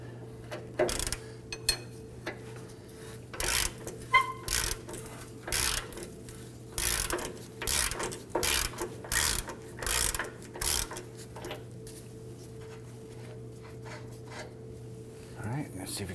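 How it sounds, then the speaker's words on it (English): A ratchet spins a nut off during a camber kit install on a 2015-2020 Ford F-150, giving quick bursts of clicking pawl sounds in an irregular rhythm, close by, with a low steady hum behind and occasional speech. "we're going to switch over to our ratchet and we're going to spin that nut off."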